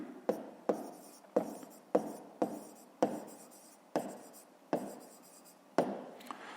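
Handwriting sounds with a series of sharp, evenly spaced taps and short scratchy strokes, like pen or chalk marks, close and fairly loud with brief pauses between them.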